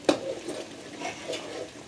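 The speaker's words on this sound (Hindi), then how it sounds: "चमचा आपने इसके अंदर मुसलसल हिलाते रहना, ताकि नीचे ना लग जाए।" A spoon stirring thick milk and potato halwa in a pan, a soft scrape followed by gentle rhythmic stirring with a faint sizzle, quiet and close.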